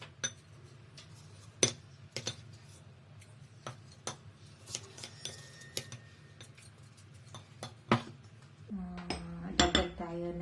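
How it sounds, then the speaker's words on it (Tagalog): Ice pieces clinking into a glass for halo-halo, scattered sharp clicks and taps at a quiet level, followed by a louder clattering burst near the end. "And next is lagyan natin ng ice."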